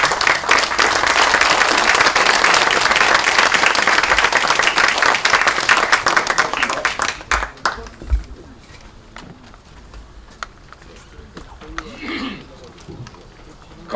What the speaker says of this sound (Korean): 그렇게 큰 박수를 보내주셨으면 좋겠습니다